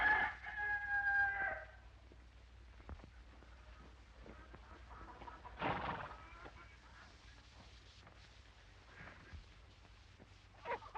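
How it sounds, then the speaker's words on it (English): A rooster crows once near the start, fairly clear, then the scene falls to a quiet background with a few faint knocks and rustles. "Abby, help me find that rooster."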